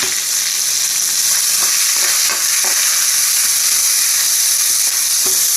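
Onions frying with ginger in a pan for Telugu buttermilk rasam, producing a steady, loud, close sizzle with a few faint stirring clicks and no speech.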